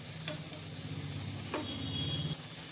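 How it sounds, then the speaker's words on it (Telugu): Onion pieces and curry leaves frying in a pan for a chicken curry, with a steady close sizzle and a couple of short clinks of a stirring spoon, no voices. "ఉల్లిపాయ ముక్కలు కొంచెం వేగాలండి,"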